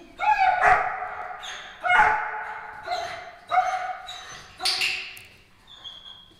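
A puppy barks in short bursts during a training session, four or five loud, close yips and barks spaced about a second apart with whiny tails between them, alone without talk.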